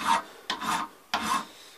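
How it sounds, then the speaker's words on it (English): A metal file worked over a long rifle butt plate: three close, harsh rasping strokes, each starting sharply and sustaining briefly, in an uneven back-and-forth rhythm. "a bad habit I got into is filing both ways"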